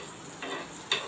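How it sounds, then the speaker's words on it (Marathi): Butter is drizzled along the edge of a corn paratha on a tawa over medium heat, a soft faint sizzle that swells in two short bursts. "इथे मी बटर घालत आहे, साईडने बटर सोडत आहे"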